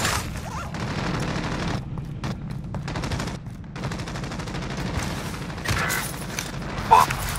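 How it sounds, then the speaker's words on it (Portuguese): Gunfire in Call of Duty: Modern Warfare, bursts of rapid shots and booms rattling through the game soundscape, with players talking over the action. "Pô, dois tiros"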